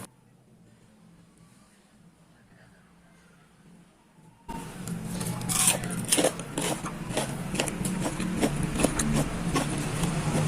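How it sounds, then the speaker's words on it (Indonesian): Someone bites and chews crispy homemade fried chicken nuggets, dipped in mayonnaise and chili sauce, close to the mic: repeated sharp crunches over a few seconds, after a quiet lead-in. "Sekarang saya mau cicip nuggetnya. Ini garingnya pas ya. Dan ini renyah banget."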